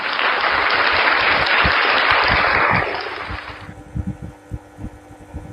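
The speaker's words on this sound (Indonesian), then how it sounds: "Kita kasih tepuk tangan dulu tuh, applause dong ya." An audience at an indoor talk breaks into dense, steady applause for about three and a half seconds. It then stops abruptly, leaving scattered low thumps and room noise.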